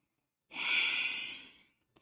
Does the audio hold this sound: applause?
no